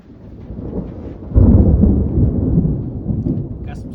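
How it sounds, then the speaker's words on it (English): Thunder from a storm rolls and rumbles low, swelling partway through and continuing to grumble, with a faint voice in the background. "Got some storms."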